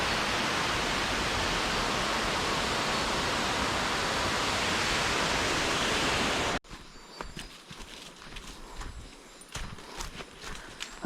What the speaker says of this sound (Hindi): जंगल में एक वाटरफॉल के किनारे हैं।